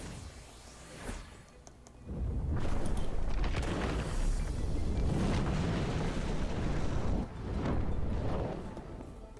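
Lava Wave fire attack in the Temtem video game against a max-speed Gazuma: a brief whoosh, then a loud rumbling, roaring surge lasting several seconds with bursts of crackle, easing briefly before swelling again.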